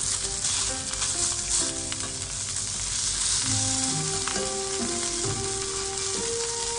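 Eggplant wedges fry in a pan and are turned so each side browns. A loud, steady sizzle fills the whole stretch, with soft melodic tones running in the background.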